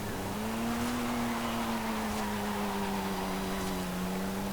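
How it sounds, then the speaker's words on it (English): Turbocharged 2.5 litre engine of a 1997 Toyota Soarer 2.5 GT-T in Forza Horizon 5, holding a steady drone at near-constant revs with a faint turbo whine above it, continuous and alone. "Yes, you can hear the turbocharger"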